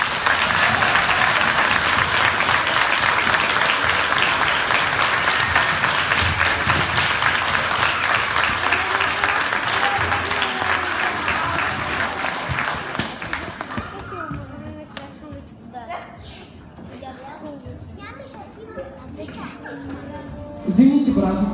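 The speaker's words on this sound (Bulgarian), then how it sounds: "Моля, аплодисменти." An audience at a school holiday show applauds steadily for over ten seconds, then the clapping fades to scattered claps, murmurs and chatter in the hall.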